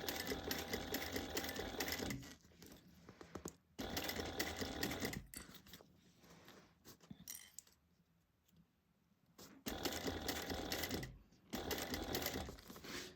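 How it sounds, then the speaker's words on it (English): A sewing machine stitches a bag seam at a quarter-inch allowance in fast, rattling bursts, stopping and starting several times with quiet pauses between runs as the fabric is turned. "And we're going to sew this down at a 1/4 inch seam allowance."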